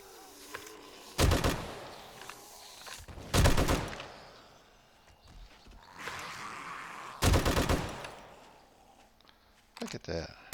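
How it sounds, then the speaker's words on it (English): Short bursts of machine gun fire from maxed-out guns in the game 7 Days To Die crackle loudly in four or five separate volleys, with quieter gaps between them where a voice talks. "I've got these machine guns just about totally maxed out"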